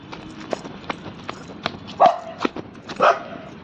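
Street dogs in a park give two short, sharp barks about a second apart, set against a run of light clicking and tapping steps, fairly close.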